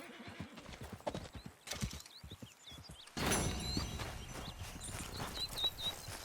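A horse in Red Dead Redemption 2 clops along in an uneven walking rhythm, then a loud whinny rises and is followed by continuous hoof noise and outdoor ambience, close and clear.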